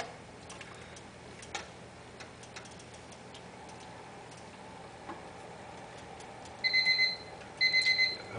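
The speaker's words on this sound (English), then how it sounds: "That was the timer for the grains." A kitchen timer set for steeping grains while home-brewing beer beeps in two short bursts of rapid electronic beeps near the end, after a long stretch of quiet room tone with a few faint clicks.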